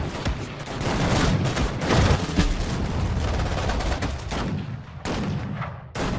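Continuous battlefield gunfire in Sudden Strike 4's North African desert war: rapid rifle and machine-gun shots crackle in a dense, rolling barrage with heavier booms mixed in, thinning briefly near the end before another burst.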